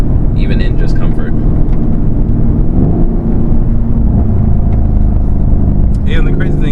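Mercedes-Benz E63 AMG S bi-turbo V8 accelerating hard with a quick gearshift: loud, steady engine rumble from inside the cabin, with voices talking over it.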